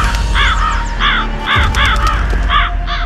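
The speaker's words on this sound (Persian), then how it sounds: "این دفعه قارش آهنگ داشت مگه نه؟" A crow caws loudly and close by, giving a series of harsh, repeated calls in short, evenly spaced bursts over steady background noise.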